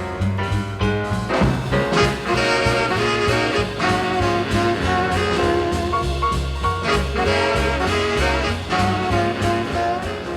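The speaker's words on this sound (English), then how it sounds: "That's the sound of the saxophone section of the big band." A big band's saxophone section plays jazz in a full, steady ensemble passage with bass and rhythm underneath, loud and continuous throughout with no talking.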